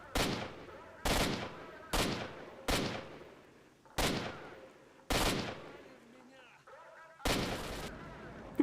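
Video game gunfire: loud, sharp single shots at roughly one-second intervals, each with a short decaying tail, close and dominant with no talk over them.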